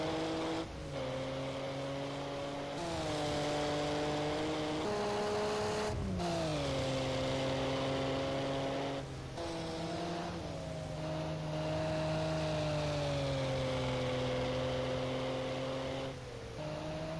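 Group A touring cars racing through a chicane, engine notes dropping and climbing repeatedly through braking and gearshifts, a steady close roar with several cars in traffic.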